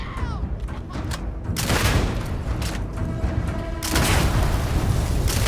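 Heavy video game gunfire rattles in dense bursts of loud booms and shots, dropping briefly after the first moments before erupting again, close and continuous.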